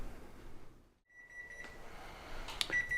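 Oven timer beeping in a home kitchen while sourdough bread bakes: a short tone near the middle, then a cluster of bright electronic beeps toward the end, fairly faint over low background hum, no talking.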